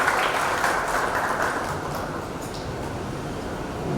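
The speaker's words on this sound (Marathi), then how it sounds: "एकदा या 3 मुलींसाठी आपण टाळ्या वाजवून त्यांचं कौतुक करूया." Audience clapping at a 2019 Sahitya Sandhya literary evening, a dense steady patter of many hands held at an even level throughout, with no voices over it.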